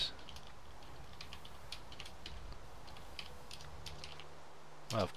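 Computer keyboard typing, a steady patter of light key clicks through a quiet room, with a louder burst of clatter near the end.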